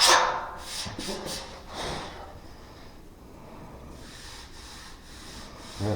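A hand sanding block rubs back and forth across a car body panel, making rhythmic scraping strokes that are loud at first and then quieter and softer, with no speech.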